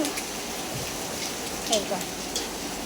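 Steady monsoon rain falls outdoors around trees and plant pots, a constant soft hiss with a faint voice in the background.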